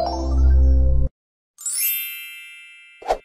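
Bright electronic notification chimes: a sustained tonal ding, a pause of silence, then a higher shimmering bell tone and a short final sparkle, clean and close with no voices.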